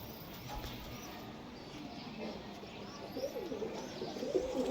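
Pigeons, among them a kamagar pair kept by a Pakistani-breed fancier in Krishnanagar, coo softly in a loft, low faint murmuring calls over quiet background rustle, growing slightly louder toward the end.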